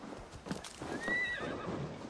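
Clip-clop of horse hooves in a quick rhythm, with a short whinny in the middle, sounding like a game horse up close, in Assassin's Creed Valhalla.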